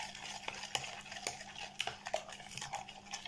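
A spoon working through a sugar mixture in a bowl, with soft scraping stirs and light clinks of utensil against the bowl, quiet and close, with no talk.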